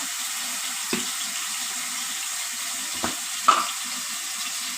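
Ginger garlic paste and turmeric frying in a pan for chicken curry, a soft continuous sizzle close by, broken by three brief knocks of a spoon against the pan.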